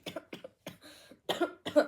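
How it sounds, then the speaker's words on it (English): A short run of harsh, dry coughs comes close up, several quick bursts with brief pauses between them. "Sorry, cough."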